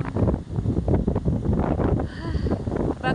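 A strong southwest monsoon wind after a typhoon blows past bamboo and trees, a continuous dense roar buffeting the microphone, with a faint voice underneath.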